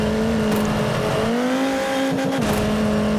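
A car engine in MotorStorm drones loud and close at steady revs, with a shift in pitch partway through and a brief tire squeal, and no talking.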